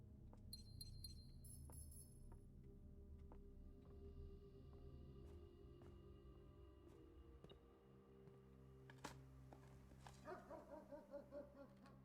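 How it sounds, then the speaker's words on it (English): Puppies barking and yipping in the video game Blue Prince, a scatter of short yips over a steady game music bed, with a busier cluster of small barks near the end. "Puppies."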